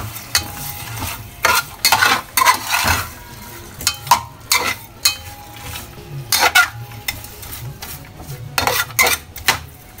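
A utensil stirs chicken sinigang in a metal cooking pot, giving repeated scraping and clanking strokes in an irregular rhythm, close and fairly loud, with a soft simmer underneath.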